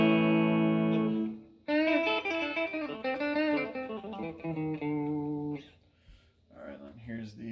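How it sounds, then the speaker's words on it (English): A stock Squier Bullet Telecaster played through its bridge pickup on a clean amp channel: a sustained strummed chord, then a run of bright picked notes and chords, close and clear with short gaps. "So here's what the bridge pickup sounds like."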